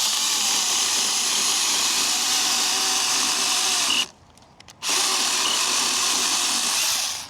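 An 18-volt battery mini chainsaw cuts into wood with a loud, steady high-pitched whine. The noise drops out briefly partway through, then the cutting resumes.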